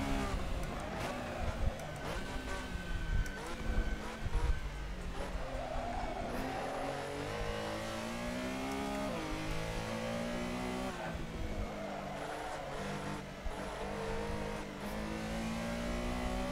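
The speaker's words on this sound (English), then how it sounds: "There you go, trying to shift into sixth gear." A Porsche Carrera Cup race car in a sim racing game revs hard through repeated gear shifts, its engine note climbing and dropping in a continuous loud drone, with brief tyre squeals and no talk.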